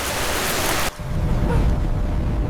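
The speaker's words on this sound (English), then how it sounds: "Rain." Rain sound effect, a loud broadband hiss of steady rainfall that cuts abruptly, then shifts to a lower, rumbling wash of rain.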